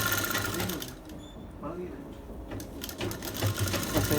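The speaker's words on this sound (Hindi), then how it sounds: "इसमें एक सिलाई लगा लें, ताकि मोड़ने में ज़्यादा टाइम ना लगे।" Sewing machine stitching a bridal sharara, its rapid mechanical whirr running steadily up close while a person talks over it.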